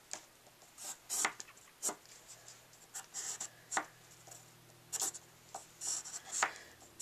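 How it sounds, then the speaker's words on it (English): A pen or pencil traces a shape onto the back side of patterned scrapbook paper, giving close, quiet scratchy strokes in irregular bursts with short pauses between, no talking. "so I'm going to trace it onto the back side"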